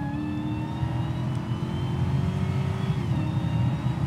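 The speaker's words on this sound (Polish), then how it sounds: "Wrzucasz mu redukcję." A Dodge Hellcat's V8 rumbles loudly from inside the car, a steady deep engine drone with a rising whine as revs build on a downshift, no voices over it.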